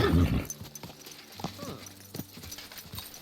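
Horse hooves clip-clopping in Kingdom Come: Deliverance II, irregular close steps following a loud opening burst, with game music and voices mixed in.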